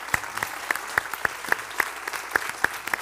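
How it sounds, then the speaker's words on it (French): A small audience applauds gladiator fighters after a match, sparse individual claps standing out in an uneven rhythm over a softer bed of clapping, fairly close. "on peut les applaudir encore une fois."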